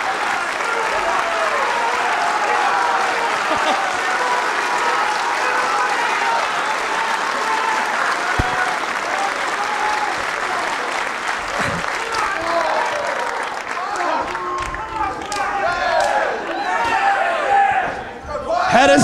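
A standing wrestling crowd cheers and applauds during a Claudio Castagnoli vs. Mike Quackenbush match, a dense continuous roar of clapping and shouting with a commentator talking over it, loud and sustained.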